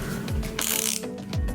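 Close ratchet tool clicks while bolts are undone on a Boosted Board electric skateboard: two quick ratcheting strokes with a brief metallic rasp between them.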